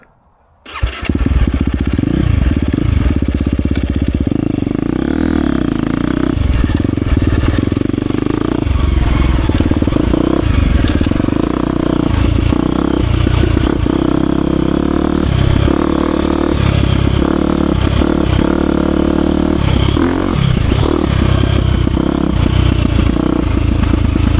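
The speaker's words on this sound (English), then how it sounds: "I've been really missing riding the 350 lately, so I just wanted to get out for a little bit and run it around" A 2023 KTM 350 XC-F Factory Edition dirt bike engine starts up and runs continuously while being ridden, a loud steady four-stroke drone with rising and falling revs and some clatter, no talking.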